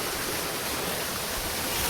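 A monsoon waterfall on the Girnar trek pours with a steady, loud broadband rush of falling water, continuous and unbroken, with no voices.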